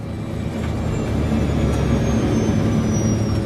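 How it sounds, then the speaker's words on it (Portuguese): Airliner jet engines roar in a steady, loud, broadband drone as thrust is reduced during an approach through cloud, with no voices. "Diminuindo o empuxo dos motores."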